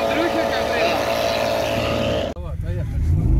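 An off-road vehicle's engine drones steadily up close under someone talking, with the sound shifting abruptly partway through as the motor keeps running.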